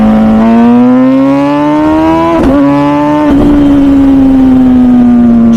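A sport motorcycle exhaust revs hard in second gear at around 7,000 RPM, a loud, close, rising howl with two sharp blips as the throttle shifts before it holds a steady high note.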